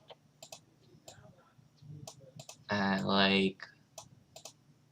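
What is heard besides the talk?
rapid clicking of mouse or spacebar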